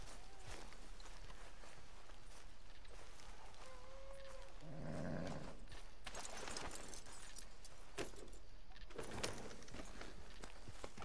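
Horse in the Red Dead Redemption 2 video game, its hoof steps and tack jangles forming a steady, faint rhythm under constant game ambience, with a soft whinny or snort near the middle and no talk.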